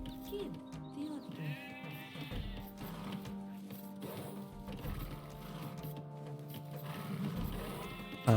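Sheep bleat in a game of Age of Empires played as the Celts, a few wavering, nasal calls mixed with soft game effects and ambient tones at moderate volume.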